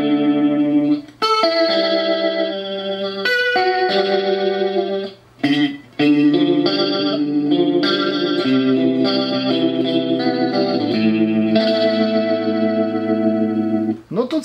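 Electric guitar played through a Digitech Crossroads pedal with the gain turned up, giving loud, sustained, distorted notes and chords with a chorus-like shimmer that ring out almost continuously with only brief gaps.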